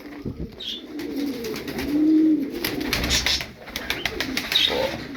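A flock of play pigeons calling: repeated soft, throaty coos rise and fall, with wing flutters and light outdoor chatter of birds around them, no talk.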